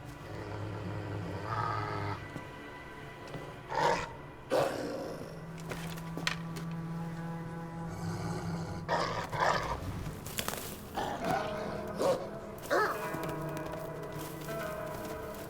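A wolf pup in Assassin's Creed Valhalla growls low and close in short rumbling bursts, with sharper yelps and snarls scattered through the stretch over a quiet game backdrop.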